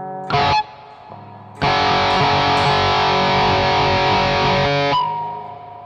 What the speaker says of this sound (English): That is the settings on the reverb I'm using. Just to give a little bit atmospheric sound on my guitar.